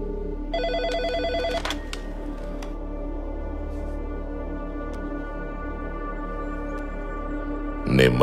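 A telephone ringing tone after a number is dialed in a Telugu thriller film, a short burst of harmonic ringing over a low steady hum, then a quieter sustained stretch.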